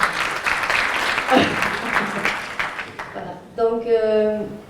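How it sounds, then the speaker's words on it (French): An audience applauds at a women-and-men equality forum, a dense burst of clapping that fades after about three seconds, then a voice speaks with music-like tones near the end. "Ça mérite d'être applaudi aussi."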